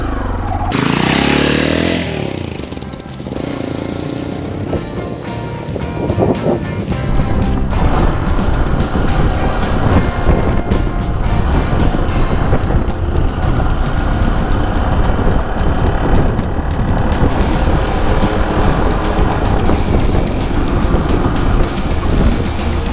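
A Chinese motorcycle ridden in third gear at about 3000 rpm across hunting grounds in the Kyiv region. Its engine drones loud and close, with rough buzzing and wind rush throughout, and there is no speech.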